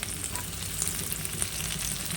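Mixed vegetables sizzling in a hot pan for veg fried rice, a steady close crackle of frying.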